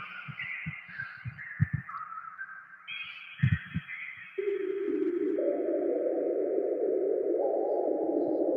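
A cloud of eight sine waves from a modular synthesizer, with pure tones gliding and stepping between pitches in layered drones. Soft pulsing low thumps come in early, then the sound settles into a steady, loud sustained chord, with no voices.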